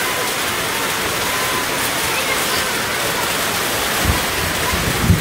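Heavy storm water pouring down around a home kitchen, a loud continuous roaring rush like a downpour or runoff, with faint thumps near the end.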